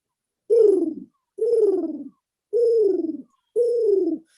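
A person imitates a pigeon's coo with four evenly spaced, drawn-out descending coos, each about half a second long, close and clear against silence.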